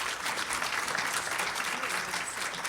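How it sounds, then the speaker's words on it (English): An audience at the I/ITSEC 2022 conference metaverse panel claps in steady, moderately loud applause that fills the whole short stretch, with no break or voices over it. "So please give them a round of applause,"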